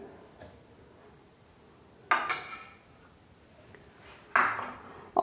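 Pieces of jaggery drop into a steel mixer jar, giving two sharp metallic clinks with ringing tails in an otherwise quiet kitchen.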